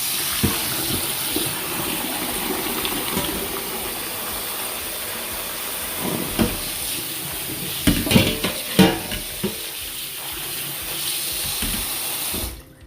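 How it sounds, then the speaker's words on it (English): Steady rushing of cold water from a tap pouring into a sink, continuous and fairly loud, with a few clinks of dishes near the end. "Run the water, cold water."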